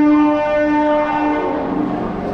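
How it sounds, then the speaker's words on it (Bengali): Loud sustained train horn blares at the crowded Howrah railway station on a busy year-end weekend, a steady multi-tone blast over dense station rumble and crowd noise, with no clear speech. "আজকে প্রচণ্ড ভিড়, বছরের শেষ উইকেন্ড, পুরো ভর্তি হাওড়া স্টেশন"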